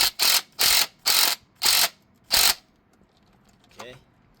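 A hand ratchet tightening a bolt on the serpentine belt idler of an Infiniti G35 coupe clicks in five loud, evenly spaced bursts, each about a third of a second long, followed by a faint rattle.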